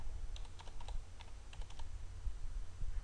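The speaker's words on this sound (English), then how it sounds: "Enter the amount of the bank transfer" Quick, irregular keystrokes on a computer keyboard as a bank transfer amount is entered, a short burst of clicks followed by a pause and a second flurry, close and fairly faint over a low background hum.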